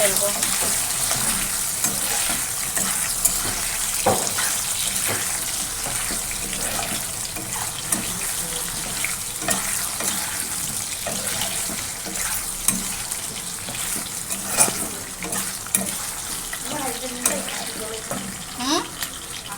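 Paneer frying in a pan, a loud steady sizzle with scattered stirring clicks and splashy crackles, close up with no talking.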